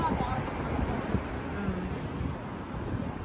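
Gusty wind rushing across the microphone outdoors, a steady broad roar throughout.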